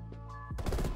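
A burst of rapid automatic gunfire in a first-person shooter game, tight close shots rattling in a quick cluster during the last half second after a brief quieter lead-in.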